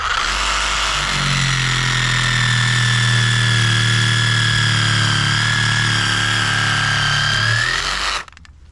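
A small motorized saw, a mini chainsaw or powered pruning saw, cuts through a tree branch with a steady, loud, whining buzz that holds for about eight seconds before abruptly stopping.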